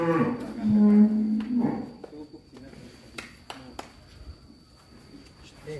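White Simmental cattle mooing: one loud, close, drawn-out low moo at the start, then quieter farmyard background with scattered knocks.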